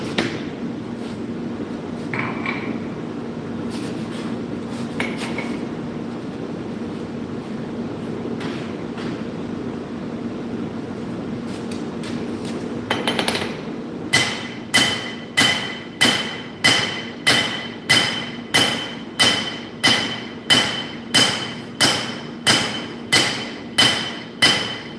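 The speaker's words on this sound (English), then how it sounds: "my main forging hammer is this dog's head hammer, and this one's 5 pounds." A 5-pound dog's head hand hammer forging steel for a nakiri knife, about a dozen loud, evenly spaced ringing blows in the second half, after a stretch of quieter shop noise and scattered knocks.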